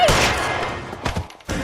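Gunshots in the video game L.A. Noire, a loud burst of firing followed by a brief gap and another sharp blast, close and dense.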